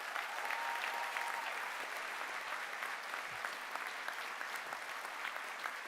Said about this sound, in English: so let's give them a big cheer as well.